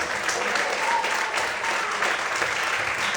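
A church congregation applauds steadily during a worship service, a thick wash of clapping hands held at an even level from start to finish.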